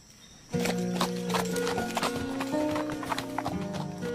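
A horse clops along with steady hoofbeats during a riding scene, letting out a neigh partway through; the clip-clop repeats in a fairly regular rhythm, close and clear, with no talking.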